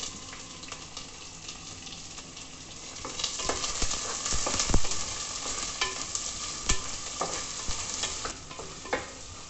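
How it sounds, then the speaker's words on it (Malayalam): Small onions and green chillies fry in hot oil in a pan for prawn curry, a constant crackling sizzle broken by sharp scrapes and clacks as they are stirred. "ഇനി ബാക്കിയുള്ള ചെറിയ ഉള്ളിയും കൂടെ വിട്ടു പച്ചമുളക് ഇട്ടു"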